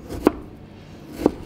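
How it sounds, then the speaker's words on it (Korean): Two separate knife strikes hit a cutting board while ingredients are roughly chopped small for fried okonomiyaki, each a sharp close thunk about a second apart over faint background noise, no speech. "대충 잘게 썰으세요 여러분. 잘게만 썰으면 될 것 같아요"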